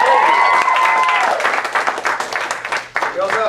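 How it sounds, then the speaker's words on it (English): Audience applause at a live improv marathon show, a loud dense wash of clapping with voices and a tonal sound over it at the start, thinning into scattered claps with talk toward the end. "So give them another round of applause."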